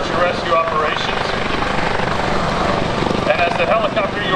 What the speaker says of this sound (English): the helicopter you are watching today responds to distress calls